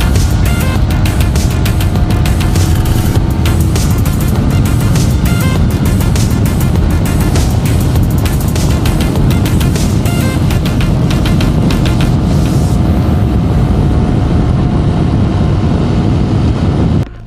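A motorbike runs at over 130 km/h, a loud continuous engine drone mixed with heavy wind rush that holds steady and then cuts off abruptly at the end.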